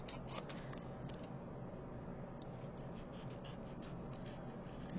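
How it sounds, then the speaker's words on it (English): Small scissors snip paper while fussy-cutting around a sentiment. The cuts come as faint, close, irregular little clicks over quiet room hiss, with no speech. "So I'm squeezing with my scissor hand and I'm moving the paper with my left hand."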